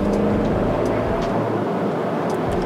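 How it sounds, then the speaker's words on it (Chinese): Inside an MG HS PHEV plug-in hybrid SUV on the road, the engine and road noise make a steady, muffled low hum throughout, fairly quiet in the cabin. "其实它引擎运转的声音 没有很大，"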